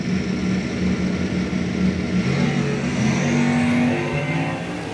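A Mustang drag race car roars down the strip at an NHRA event, a loud rising engine note building over a few seconds amid open-air noise.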